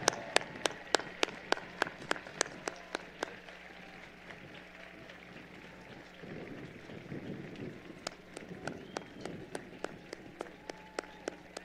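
Sparse, widely spaced claps for graduates at a spring commencement ceremony, sharp individual hits at a steady rhythm that pause midway over faint background rustle and noise, then resume.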